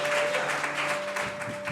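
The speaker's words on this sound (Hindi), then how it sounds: "प्रभु के लिए ताली" A church congregation applauding, a dense, even wash of clapping from a crowd in a hall, with a faint steady tone running underneath throughout this short burst.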